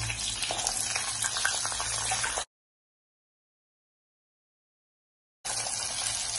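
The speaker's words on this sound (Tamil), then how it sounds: "வெங்காயம் பூண்டு கொஞ்சம் நல்லா வதக்கட்டும்." Onions and garlic fry in a pan with a steady, close crackling sizzle that cuts off into silence for a few seconds and then resumes.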